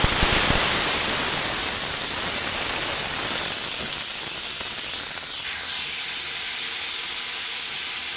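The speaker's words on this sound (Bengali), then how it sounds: "তো ভাজিটা আগে বসাই দিব।" Chopped potato bhaji frying in hot oil, a steady loud hissing sizzle that stays dense throughout, slightly settling toward the end.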